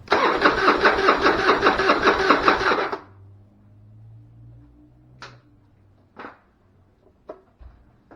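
A Harley-Davidson motorcycle engine with a vacuum-operated fuel valve cranks loudly in a fast, rhythmic churn for about three seconds, then cuts off, leaving a few scattered clicks and quiet ticking.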